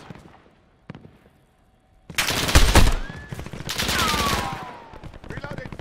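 Gunfire in the video game Call of Duty Warzone: loud bursts of rapid automatic fire come in two long volleys after a quieter start, with clicks and a brief game voice line in the mix.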